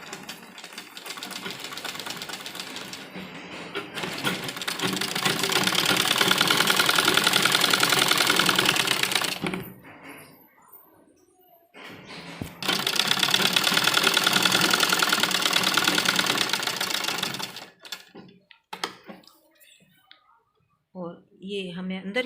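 Sewing machine stitching along the folded edge of an old dupatta being turned into a suit, running in two long steady bursts with a pause between and brief stop-start runs at the end.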